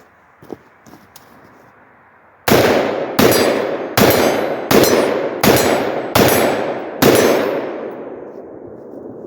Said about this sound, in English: Let's blast off a couple of rounds with this.